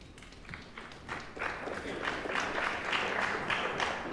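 Scattered clapping from the arena crowd at a US Open Pool Championship semi-final, a thin patter of hands that swells slightly, fairly distant, with little else over the quiet hall.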